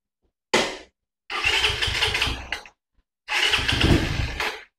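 A Suzuki Raider motorcycle with a mechanical carburettor and an aftermarket fuel tank fires up in a short burst, then revs twice in loud, close, sustained rises separated by a brief gap.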